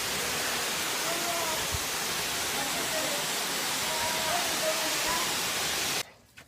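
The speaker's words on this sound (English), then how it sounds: "Budlaan Falls here in the Philippines." Budlaan Falls in the Philippines roars as a steady, dense wash of falling water, loud and continuous before stopping abruptly.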